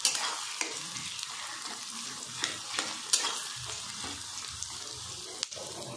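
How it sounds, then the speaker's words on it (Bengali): Onions frying in oil in a wok, a soft continuous sizzle with occasional scraping stirs and small crackles, close by and fairly quiet, no speech. "পেঁয়াজটা একটু লাল করে ফ্রাই করে নেব।"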